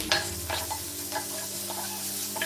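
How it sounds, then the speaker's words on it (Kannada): Onions, green chillies and curry leaves frying in oil on a hot stone give a steady close sizzle, with occasional scraping stirs cutting through and no talking. "ಒಂದು ಎರಡು ನಿಮಿಷ ಫ್ರೈ ಮಾಡ್ಕೋಬೇಕು"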